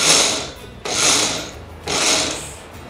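A mixer grinder whirs through spice paste with salt in short bursts, three loud pulses of spinning separated by brief pauses.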